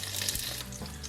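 Meat pie pan-frying in oil over low heat, a steady close sizzle and crackle that carries on evenly throughout with no talking.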